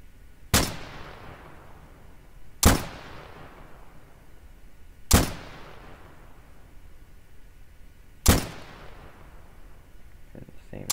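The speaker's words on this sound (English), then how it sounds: "There goes at least like 7 shots." Four loud, sharp single gunshots in a Garry's Mod World War II roleplay server ring out at a slow, uneven pace, each followed by a long fading echo, with a faint murmur of background noise between them.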